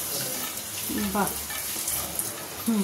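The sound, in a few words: luchi frying in hot oil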